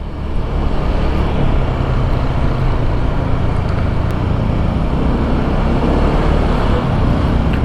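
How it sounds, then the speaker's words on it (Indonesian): A 2022 Honda Vario 160 scooter on a test ride accelerates with a steady, loud, close roar of engine and wind that holds without a break throughout. "Ditarik tuas gas sedikit aja udah ngacir motornya."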